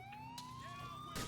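Police car siren in the video game Need for Speed Most Wanted, a single rising wail heard faintly with a short burst of other game noise near the end.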